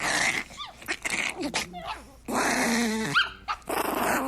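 A small puppy growls and yips in bursts, close and loud, with snarling rises between short pauses and some voices mixed in.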